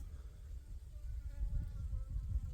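Wild Korean native honeybees swarming out of their hive, a dense, steady low buzzing drone that swells slightly, heard close with no talking.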